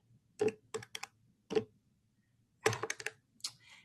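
Calculator buttons pressed in short bursts of crisp plastic clicks, a few quick taps at a time separated by pauses, close and fairly quiet against a low room hum.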